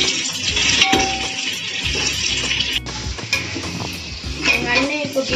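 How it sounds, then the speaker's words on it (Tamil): Onions go into a pot and fry for a Nattu Kozhi dum biryani, giving a loud, continuous sizzle with stirring scrapes and occasional clinks of a utensil against the pot. "இப்போ வந்து நம்ம வெங்காயத்தை ஆட் பண்ணுவோம்."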